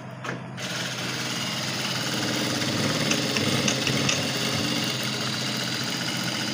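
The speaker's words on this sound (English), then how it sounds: "Your presser foot is down already, and you can start sewing." An industrial lockstitch sewing machine runs steadily with a dense mechanical whir and rapid needle chatter, loud and close, after a brief click at the start.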